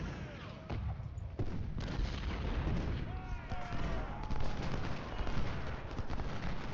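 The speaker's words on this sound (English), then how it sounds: "Looks like this artillery piece might be firing on Kemper." Artillery fire in the Civil War strategy game Ultimate General Civil War, a dense, continuous rumble of distant cannon booms and crackling volleys, with bright whistling streaks over a steady battle din.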